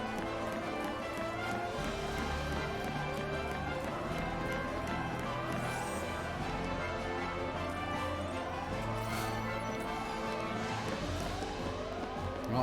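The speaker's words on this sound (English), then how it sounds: "let's do it in an area without a siren going off in the background" Siren wailing in the background of the Final Fantasy XIII video game, repeating rising and falling tones layered over rhythmic clattering game sounds, steady and moderately loud throughout.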